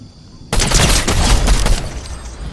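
A sudden burst of rapid gunfire erupts in a bush ambush, a loud, close fusillade of overlapping shots lasting about a second before easing off, with no voices.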